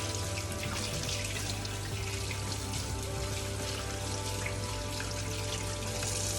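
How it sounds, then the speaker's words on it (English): Tap water gushes steadily into a kitchen sink as hands are rinsed while cooking Jamaican brown stew chicken, a dense, loud and unbroken wash of sound close by. "Rinse my hands off."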